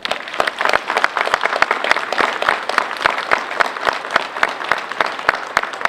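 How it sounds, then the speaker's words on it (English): Applause from a crowd gathered at a Veterans' Day parade ceremony, dense steady clapping with sharp individual claps standing out, loud and continuous throughout. "So I want to give them a round of applause right now."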